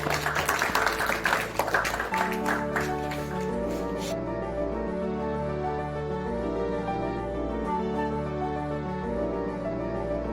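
Audience applause at a short-film festival award presentation, a brief burst of clapping that fades within a few seconds while sustained music carries on.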